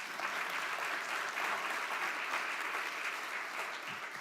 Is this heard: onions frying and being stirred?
no